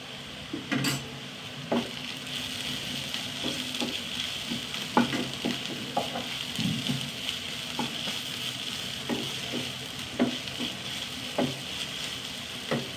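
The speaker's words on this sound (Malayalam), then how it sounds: "ഉള്ളിയൊക്കെ നന്നായി വഴണ്ട് ഒരു ടീസ്പൂണ് ഇഞ്ചി വെളുത്തുള്ളി കൂടി ചാച്ചത് കേട്ടോ" Onions frying in a pan with ginger garlic paste give a steady, close sizzle, broken by intermittent scraping and clinks of stirring.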